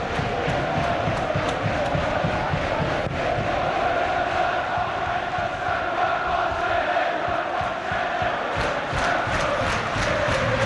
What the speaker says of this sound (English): Southampton's capacity crowd still trying to rally their players.